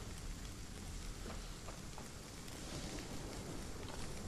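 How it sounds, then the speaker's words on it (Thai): Steady rain falls in the survival game ASKA, a dense continuous hiss of drops at an even level throughout, heard alone with no talking. "ฝนก็ตกจังเลย"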